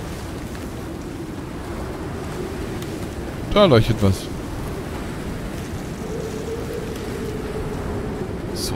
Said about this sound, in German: So ein starker Wind hier.